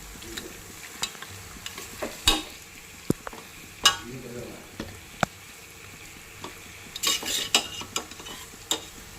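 Mutton keema stirred and frying in a pan, with a steady low sizzle broken by frequent scraping and clinking strokes of a spoon against the metal, close and alone.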